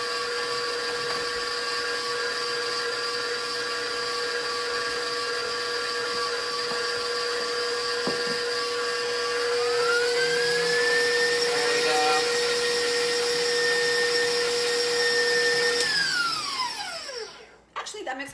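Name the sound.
mixer blending butter and eggs for low carb pound cake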